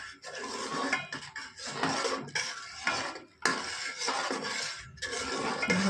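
Rice with ghee and a little salt is stirred in a cooking pot, bursts of scraping and clinking of a spoon against metal coming in uneven strokes separated by brief pauses, close and fairly quiet.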